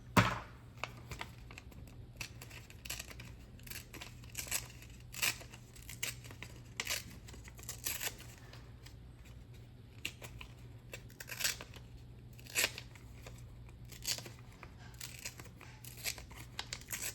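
Paper is torn and handled while working on a junk journal notebook, giving a string of close, sharp ripping and crinkling bursts over a low steady background hum, with no speech.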